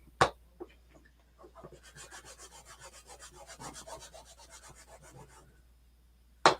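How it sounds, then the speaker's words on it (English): Rubbing wax onto small wooden shadow box pieces, a steady series of soft scraping strokes, close and fairly quiet, framed by a couple of sharp knocks at the start and end. "So I'm just waxing these."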